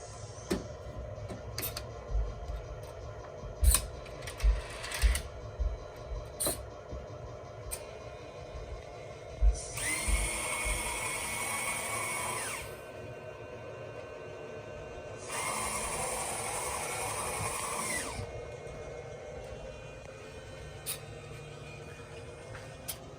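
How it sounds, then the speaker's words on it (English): A model railroad rotary dumper lifts its track, clamps down and rotates, giving two sustained whirring motor runs of several seconds each amid scattered clicks and clunks from the mechanism, moderately loud and close with no talking. "When he pushes the button, the lift track will lift after the brake engages. The clamp will come down. It'll rotate."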